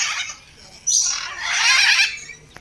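At a zoo, red birds let out harsh, raspy squawks in two bursts, close and fairly loud, with a short pause between them.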